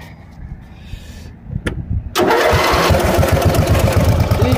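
A small riding lawn mower engine with a simple muffler sits idle at first, then cranks and fires up about two seconds in. It settles into a loud, steady running drone close to the listener.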